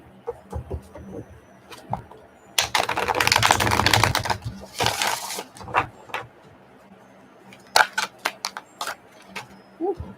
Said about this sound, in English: We're going to keep on shuffling.